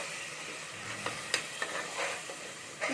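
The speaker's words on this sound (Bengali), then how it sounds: "মশলাটা ভালো করে ভাজা হতে দেবো" Spice masala sizzles and fries in a pan while being stirred, with a steady close hiss broken by a few scraping stir strokes; no voices.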